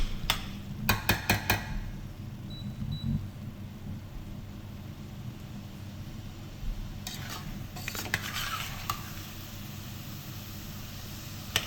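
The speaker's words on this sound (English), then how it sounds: "what we're doing is just going to keep on stirring" Meat vindaloo curry being stirred in a pan, with a few clustered scrapes and clinks of a utensil against the metal over a low steady background hum.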